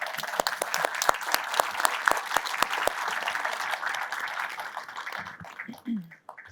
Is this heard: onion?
no